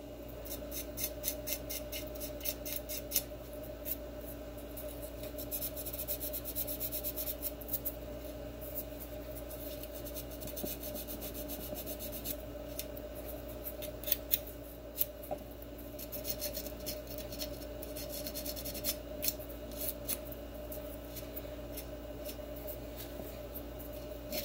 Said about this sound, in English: all you gotta do is I take 320 grit paper